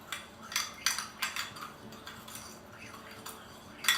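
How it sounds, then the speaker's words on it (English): Spices being mixed into ground meat for meatballs, a run of irregular clinks and knocks of a utensil against a bowl, close and fairly crisp, with no talking. "You want to mix those together really well."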